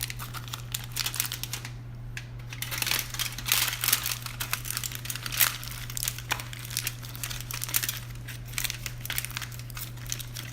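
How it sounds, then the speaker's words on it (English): Pork ribs being wrapped tightly in aluminum foil, giving steady crinkling and crumpling close by with a continuous low hum underneath and no talking. "So now we're going to wrap the ribs in foil"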